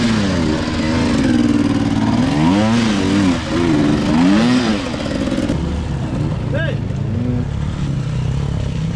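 A motorcycle engine at an extreme motocross race revs loudly and close, its pitch rising and falling in repeated surges, with voices shouting over it.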